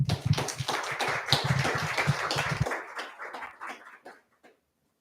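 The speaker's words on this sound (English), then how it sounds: "Please give a round of applause." An audience at a formal strategic dialogue event claps in a dense burst of applause that fades out over a few seconds, leaving scattered final claps.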